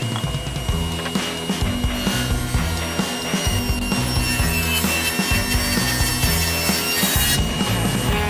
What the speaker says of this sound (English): I just need to get it ripped down to 4 inches.